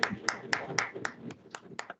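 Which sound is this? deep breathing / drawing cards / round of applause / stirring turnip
round of applause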